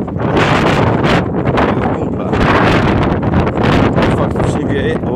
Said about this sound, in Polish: Faktycznie wieje.